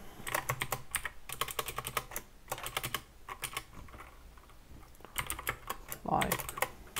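Typing Go code on a computer keyboard: bursts of rapid, close keystrokes with short pauses in between, steady and fairly loud throughout.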